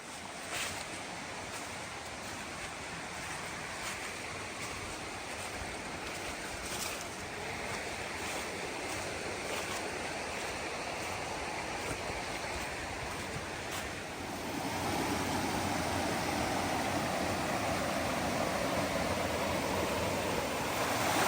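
Steady rushing water fills the scene, a continuous broadband wash that grows louder partway through, like a creek tumbling over rocks close by, in Nantahala National Forest, North Carolina.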